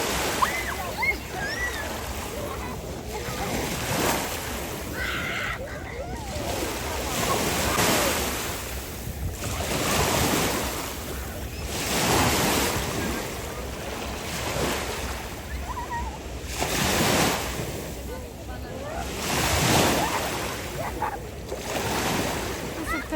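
Sea waves roll and break at a beach in slow, regular surges, with steady wind buffeting the microphone throughout and a faint voice briefly heard.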